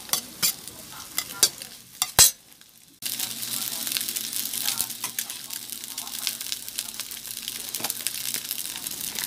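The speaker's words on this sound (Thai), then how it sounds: "จากนั้นก็ผัดเลยค่ะผัดให้ไข่กับข้าวคลุกกัน" Cold leftover rice and egg stir-fried together in a pan, a steady broadband sizzle with scraping stirs, preceded by a few sharp clatters and a brief quieter stretch before the loud frying takes over.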